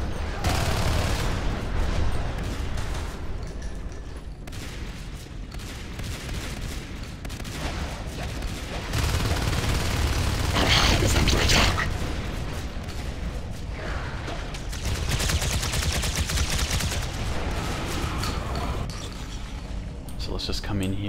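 Rapid bursts of shotgun fire in Natural Selection 2, a multiplayer sci-fi shooter, with repeated loud blasts and booming impacts under continuous commentary and battle noise.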